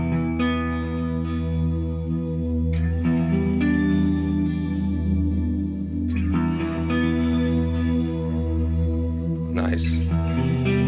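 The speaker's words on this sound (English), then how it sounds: "we'll add a bit of reverb after those." Electric guitar chords through a Mooer Ocean Machine pedal, sustained in a lush wash of echoing delay repeats and spacious reverb, with occasional fresh strums and a bright squeal near the end.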